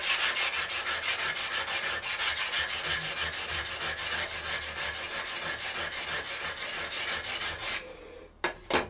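A woodworking blade is rubbed back and forth to touch up its edge, making a close, loud, rhythmic rasping with steady strokes for about eight seconds before it stops and a couple of light taps follow.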